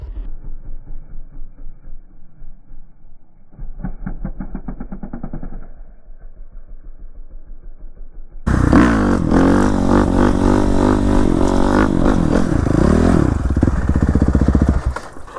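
A 450 RL dual sport motorcycle engine, heard first as a steady idle with revving, then a loud close roar under hard acceleration that holds for several seconds before easing off.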